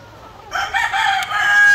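Chickens in a breeding pen cluck and crow close by, a loud burst of calls starting after a quiet moment and continuing steadily to the end.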